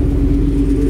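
A 2021 Ford Mustang engine idles quietly and steadily, a low, even rumble held close with no revving for the whole moment.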